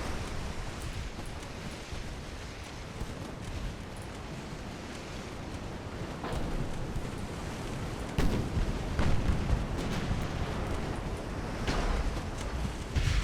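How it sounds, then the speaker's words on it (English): Naval cannon broadsides and explosions in a video game battle off Cuba between Spanish and opposing warships, a dense continuous rumble of gunfire and blasts that swells louder in the second half, with sharp booms punching through. "That's a big broadside."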